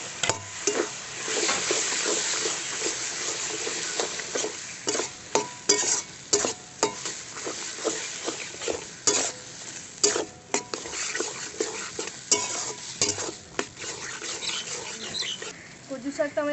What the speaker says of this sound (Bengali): কচুর শাকটা এর মধ্যে দিয়ে একটু ভেজে নেব।